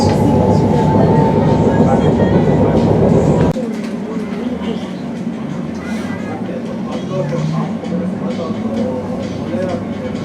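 A London train to Abbey Wood via Canary Wharf runs with a loud close rumble that drops abruptly partway through to a quieter interior hum, with faint voices murmuring over the lighter running noise.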